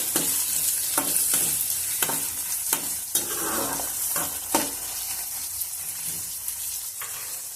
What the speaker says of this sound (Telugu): ఉల్లిపాయ ముక్కలు వాటిని వేసుకొని మనం లైట్ గోల్డెన్ షేడ్ వచ్చేంత వరకు ఈ ఉల్లిపాయ ముక్కల్ని మనం వేయించుకుంటూ ఉండాలి